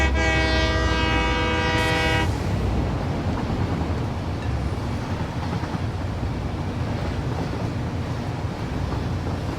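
A train in the factory-building game Satisfactory sounds a loud sustained horn for about two seconds, then rolls on with a steady rumbling, clattering wheel noise that continues unbroken to the end.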